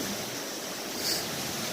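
Laurel Fork River flowing beside a trail, a steady broadband rush of moving water heard alone, even and continuous with a faint hiss of wind.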